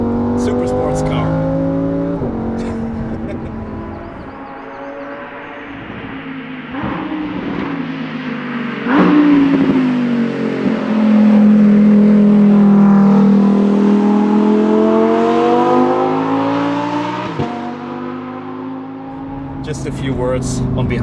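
A Lamborghini Huracan EVO RWD on a Black Forest drive: a loud, close engine surging and easing through revs, with a sustained high-rev stretch mid-way and a brief voice near the end.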